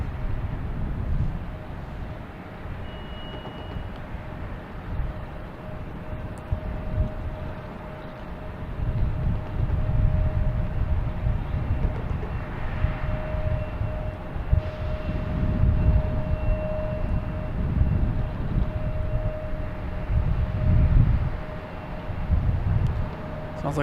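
A Delta jet bound for Miami takes off from runway 4 Right at Boston Logan Airport, a steady broad roar with low rumbling swells, heard from a distance throughout, with a faint steady tone running underneath.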